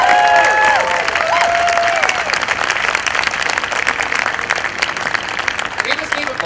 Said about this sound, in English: applauding for Sharona